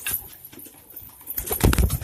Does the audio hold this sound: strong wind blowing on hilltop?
no